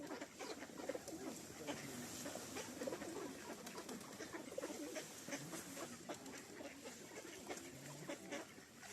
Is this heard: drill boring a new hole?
no